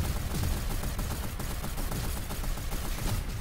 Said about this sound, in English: Someone shot at me. Who's shooting at me?